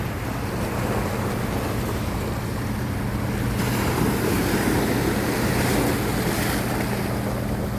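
Water churned by passing boats washes and surges steadily against a house set on rocks, a continuous broad rush mixed with wind noise on the microphone, with no break throughout.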